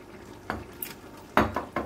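Metal utensil stirring a soy sauce basting mixture in a bowl in a home kitchen, giving a few sharp scrapes and clinks spaced unevenly, close and fairly quiet, with no talk.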